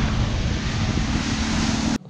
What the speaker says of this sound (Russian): Нас чуть не накрыло волной.